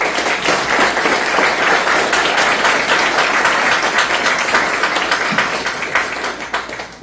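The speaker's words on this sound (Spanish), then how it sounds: "Les pido un fuerte aplauso para él." A seated audience applauds a speaker being introduced at a legal panel, producing dense, continuous clapping from many hands that holds steady for several seconds, then gradually thins and fades at the end.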